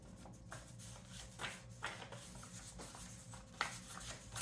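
Handwritten sheets of bagpipe march music are shuffled by hand, giving quiet, brief paper rustles and rubs with a small tap near the end and no talking.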